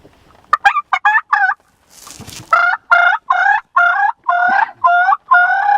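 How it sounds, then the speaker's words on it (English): Wild turkeys in a field call loudly and close by in a run of repeated, evenly spaced honking yelps, with a brief rustling pause after the first few calls. "the other two turkeys in the field are trying to establish a new pecking order"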